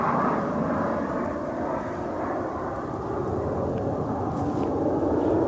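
An F-16 fighter jet on a strafing run during combat in Afghanistan gives off a steady, moderately loud engine roar that drones without a break, with no voices.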